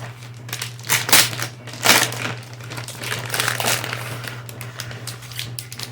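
Packaging for a tablet case being handled and opened, with crinkling, crumpling plastic and paper and a couple of louder crackling bursts over a steady low hum.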